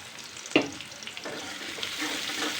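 Chopped greens and potato strips with garlic frying in a pan, a sharp clatter from the stirring spoon followed by a soft steady sizzle and scattered scraping stirs.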